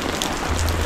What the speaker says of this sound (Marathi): पाऊस पडतोच आहे